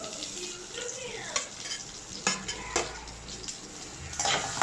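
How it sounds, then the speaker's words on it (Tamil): Onions sautéing in a pan for murungai keerai thuvaiyal give a steady, close sizzle, broken by sharp scrapes and clinks as a utensil stirs against the pan. "கொஞ்சம் வெங்காயம் கொஞ்சம் வதங்கணும்."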